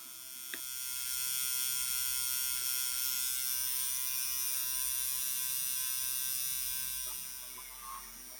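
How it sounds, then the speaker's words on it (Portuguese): Tattoo machine with a liner needle marking diluted ink, a steady close electric buzz running for about six seconds, with faint clicks at start and stop. "aí eu sigo fazendo as marcações com a agulha de traço e a tinta diluída"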